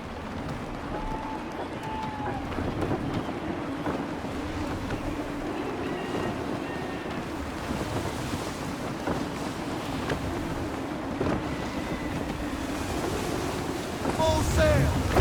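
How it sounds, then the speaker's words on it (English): Wind gusts and rolling waves wash steadily around a sailing ship at sea in Assassin's Creed III, a continuous broad roar with surf surging throughout and swelling louder near the end. "Wind looks to be shifting. Stay alert, Connor. Gusty winds can be difficult to manage."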